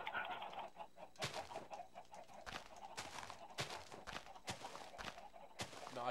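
Minecraft chickens clucking in a video game, a series of short, sharp synthetic clucks in an irregular rhythm, fairly clear with no talking over them.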